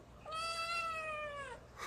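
A long-tailed Manx cat gives a single drawn-out meow, clear and close, with a faint rustle just after it.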